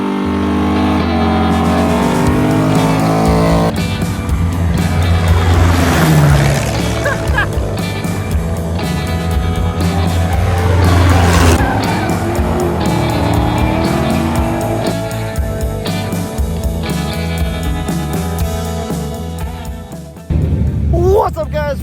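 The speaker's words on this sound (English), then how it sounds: "we drive barely street legal race cars through northern Montana" Barely street legal race cars drive through the northern Montana mountains, engines droning and revving loudly with shifting pitch throughout, while a person talks over the steady roar.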